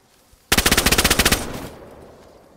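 A burst of rapid automatic gunfire in a video game, about fifteen evenly spaced loud shots in under a second, followed by a short fading tail.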